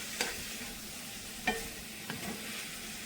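Green beans frying in butter in a pan are stirred a few times, three sharp scraping strokes over a steady soft sizzle, close and fairly quiet.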